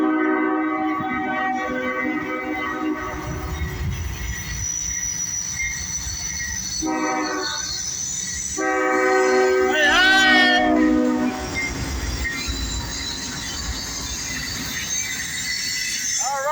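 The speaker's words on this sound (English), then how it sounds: "Southbound steel train, steel slab, baby." A southbound freight train loaded with steel slabs passes loud and close, its wheels rumbling and clattering throughout while the horn sounds in long sustained blasts, with a brief squeal near the middle.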